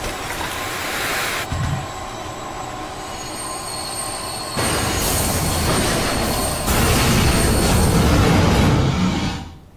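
Train wheels screeching in the video game Binary Domain, a loud, continuous metallic squeal over heavy rumbling rail noise that swells in stages and cuts off abruptly.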